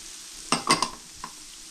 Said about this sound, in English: we're gonna turn the heat a little bit up until we give a couple of minutes to saute